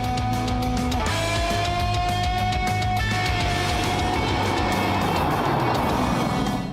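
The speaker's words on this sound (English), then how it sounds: "the thunderous roar of this Mercedes-AMG GT C Roadster with its mighty 4-litre 8-cylinder engine" A Mercedes-AMG GT C Roadster's 4-litre V8 roars loud and close, with a sustained engine drone and shifting tones climbing through the revs over nearly seven seconds, no voices.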